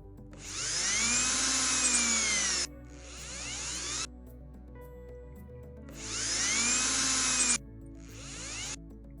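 Cordless power drill boring holes into a wall to mount a garage door keypad, two long whining bursts with the motor pitch rising and falling, each followed by a shorter run, close and loud.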